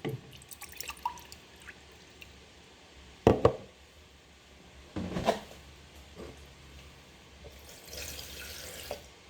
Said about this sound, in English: I'm gonna add 6 more ounces of water